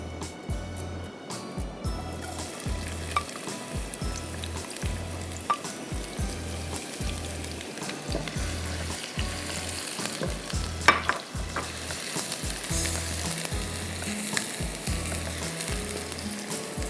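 Finely chopped onion fries in oil in a pan with a steady, close sizzle, punctuated by rhythmic scraping and stirring strokes throughout.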